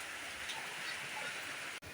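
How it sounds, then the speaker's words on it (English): Heavy rain pours steadily during a rainy-day flood, a dense even hiss of water near and constant throughout, with a brief dropout near the end. "We're having rain."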